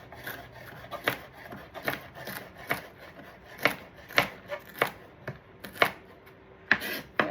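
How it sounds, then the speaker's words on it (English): A knife chops egg salad ingredients on a cutting board, sharp irregular thuds in quick bursts over several seconds, close and fairly loud, with no voices. "I'm going to chop this other piece too"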